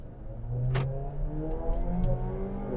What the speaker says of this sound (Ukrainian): пряма дорога, нажимаємо газ в полік